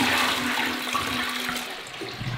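A toilet flushes in a wooden lumberjack cabin in the forest, a close rushing gush of water that slowly fades as the bowl drains, with no talking.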